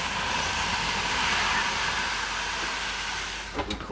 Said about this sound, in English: It's going to make lots of steam.